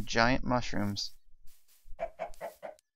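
Minecraft chickens from the FTB modpack give a few short clucks after someone speaks, soft, evenly spaced game sounds following the talk.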